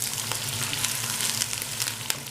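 Beef tripe fries in a pan with a dense, continuous sizzle and crackle, close and steady throughout, with no voices over it.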